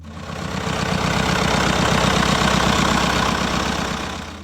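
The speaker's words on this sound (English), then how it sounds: "This is the Massey Ferguson 265, a true example of quiet reliability and long-term value." A Massey Ferguson 265 tractor engine idles steadily and close by, with a continuous low, even chug that holds at a constant level for the whole stretch and no voices over it.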